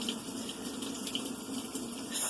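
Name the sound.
water filling a repaired Samsung washing machine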